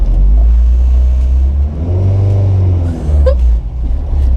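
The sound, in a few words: Honda Civic EG hatch engine revving while driving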